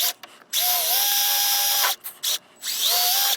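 A power drill driving screws into composite dock boards, with several loud, close whining bursts that rise in pitch and stop abruptly between short pauses.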